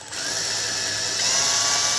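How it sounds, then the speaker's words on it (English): A power drill whines loudly and steadily up close, its high motor pitch rising slightly as it bores through metal while a roof rack is fitted. "I'll be able to feel it when I drill through"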